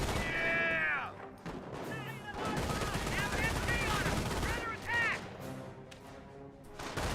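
Sustained bursts of MG42 machine-gun fire from the World War II strategy game Company of Heroes, rattling through a dense battle mix with other gunfire and impacts, partly under a commentator's voice.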